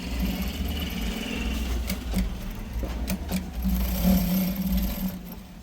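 A sewing machine stitches a shirt collar with a steady, close mechanical whirr and a low rhythmic chatter, punctuated by a few sharp clicks, running on without talk.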